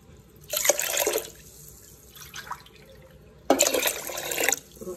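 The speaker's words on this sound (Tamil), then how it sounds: "எந்த கப்பில் நம்ம ஊற வச்சோமோ அதே கப்பில் 3 கப்பு வந்து தண்ணி போட்டு நம்ம வேக வைக்க போகிறோம்" Water splashes into a pressure cooker of soaked rice and lentils for ven pongal, two short pours a few seconds apart, close and clear, with faint trickling between.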